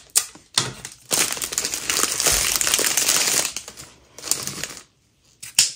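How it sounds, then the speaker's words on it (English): Close crinkling and rustling of gift wrapping paper with sticky tape being pulled and pressed down on the sides in several bursts, separated by brief pauses. "And then I'll just sellotape those sides down."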